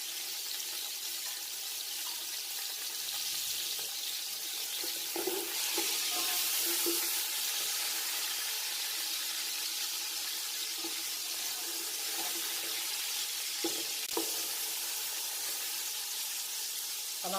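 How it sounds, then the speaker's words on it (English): Chopped tomato frying in a pan for mutton pulao, a steady close sizzling hiss broken by occasional stirring scrapes. "And I'm going to add 1 medium tomato chopped."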